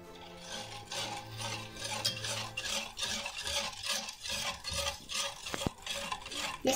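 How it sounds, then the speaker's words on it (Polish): Hot strawberry gelatin mixture for homemade gummies stirred steadily in a pot, a continuous wet scraping and swishing with rhythmic strokes, close and fairly quiet, with no talking. "I mieszamy."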